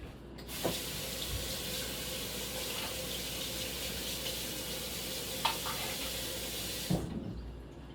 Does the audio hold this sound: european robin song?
no